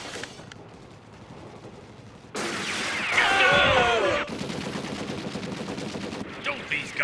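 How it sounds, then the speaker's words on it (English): Anime gunfire from warning shots erupts in a loud, sustained burst of rapid shots and crashes, then continues in a dense rattling volley, heard up close with no speech over it. "they're just firing warning shots"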